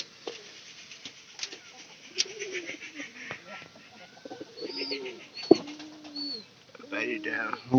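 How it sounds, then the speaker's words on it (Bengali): Pigeons in a coop give soft, repeated cooing calls with a few faint chirps, close by and at moderate volume, with scattered rustling and knocks between the calls. "সবচেয়ে আমার কাছে ভালো লাগতো এই যে তৃতীয় ঘরের এই কবুতর গুলা"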